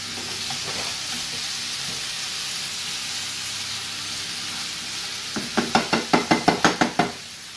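Smoked bacon lardons hit a hot pan with a steady sizzle, then a burst of sharp, rhythmic clacks near the end as they are stirred and knocked about, loud and close.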